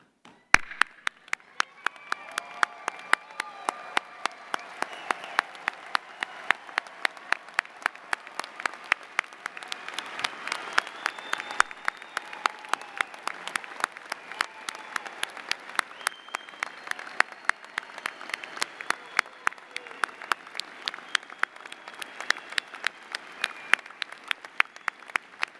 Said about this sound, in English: I ask the audience to stand with me and applaud the achievement of our graduates.